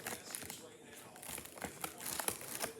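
Scissors cut open the plastic packaging of a Nickelodeon slime toy, giving quiet crinkling and snipping of plastic in short irregular bursts, close up.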